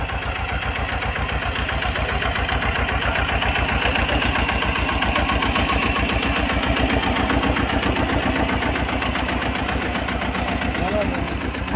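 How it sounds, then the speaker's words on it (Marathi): A tractor ploughs furrows in a field for garlic planting, its engine chugging steadily and loudly throughout in a fast, even rhythm, with a voice talking over it. "ट्रॅक्टरने सरी पाडतायत."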